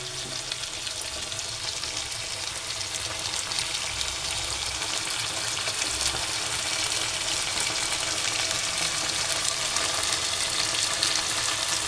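Sardines coated in ground green peppercorn frying in a pan over low heat, a steady dense sizzle and crackle that runs on continuously and close up, with no talk.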